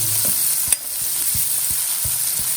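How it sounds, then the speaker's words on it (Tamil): Onions frying in coconut oil in a pan, a steady sizzle running throughout with repeated soft knocks of a spoon stirring at a regular pace, close and fairly loud, no voices. "வெங்காயம் நல்லா ப்ரௌன் ஆகிற வரைக்கும் வச்சணும்."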